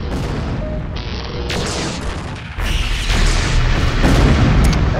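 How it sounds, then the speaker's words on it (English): In MechWarrior 2: Mercenaries, an enemy mech is destroyed amid loud, dense game combat: heavy booms and rumbling explosions layer over one another and swell toward the end, with no voices. "Enemy mech destroyed."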